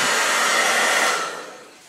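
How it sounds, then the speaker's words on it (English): A hairdryer blows steadily up close, drying thinners off a motorcycle part, a loud even airy whoosh that fades down over its last moments, with no voices. "Let's get a hairdryer and just suck the thinners out of that for a minute."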